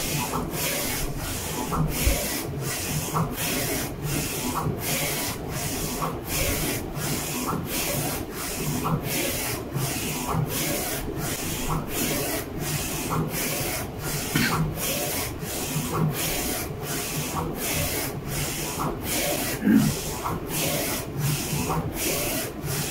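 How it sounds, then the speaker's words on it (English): A FocusInc Alpha-Jet UV printer runs a color-only print job, giving a steady mechanical rubbing and whirring with a regular rapid rhythm of carriage passes. It holds an even, moderate level throughout, with no talk. "And printer start printing."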